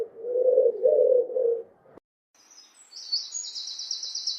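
A pigeon coos in a soft, low, rolling phrase lasting about two seconds, heard close and alone, followed by a brief pause and a thin high chirping sound.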